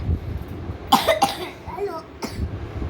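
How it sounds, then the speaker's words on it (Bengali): A boy coughs several times in short, sharp bursts close by, with a few small vocal sounds in between. "আবার কাশছো কেন বাবা?"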